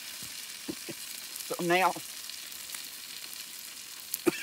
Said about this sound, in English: Now, our potatoes and onions are cooking up pretty good.